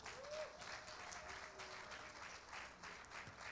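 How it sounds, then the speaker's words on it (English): Wedding guests at a church ceremony break into sustained applause, a dense wash of clapping filling the room with faint voices beneath. "Let's clap for them again."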